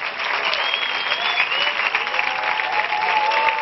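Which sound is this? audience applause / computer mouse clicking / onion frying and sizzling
audience applause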